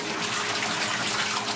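Oil and water pour together into a hydrocarbon rainwater filter test tank, a steady continuous gush of liquid splashing close by with no talk over it.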